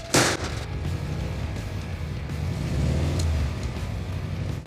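An old car engine starts first try with a sharp loud burst from the starter and ignition, then settles into a rough, rumbling idle that swells slightly before easing.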